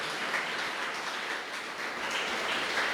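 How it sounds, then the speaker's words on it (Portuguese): A church congregation claps together during a Sunday morning service, a dense, continuous wash of applause that holds steady at moderate loudness throughout. "Dê uma salva de palmas para o Rei dos Reis"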